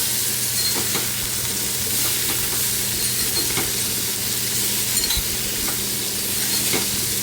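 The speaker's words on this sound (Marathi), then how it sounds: "आता याच्यामध्ये आपण स्वच्छ धुवून घेतलेली गवार आहे ती टाकायची आहे आता हे सगळं आपण एकजू करून घेऊया" Cluster beans and spices sizzle steadily in oil in a frying pan while a spoon scrapes and knocks in a rhythm as they are stirred, close and continuous without speech.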